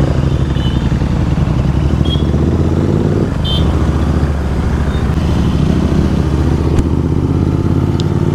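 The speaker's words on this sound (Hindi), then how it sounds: "तो आज दो दो बाइक के साथ में अपने अपाचे RR 310 है और ड्यूक 390" A KTM Duke 390 and a TVS Apache RR 310 are ridden on the road, their engines droning loud and close over steady wind rush, with a few brief clatters and no talking.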